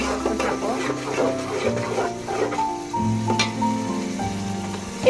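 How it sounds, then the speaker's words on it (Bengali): Whole spices sizzle and crackle in hot oil in a home kitchen pan, a steady close frying hiss with scattered pops and light stirring scrapes running throughout. "গোটা মশলাগুলো ভেজে দিচ্ছি"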